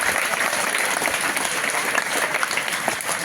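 Students clap loudly, producing a dense, continuous burst of applause that fills the whole stretch with no break.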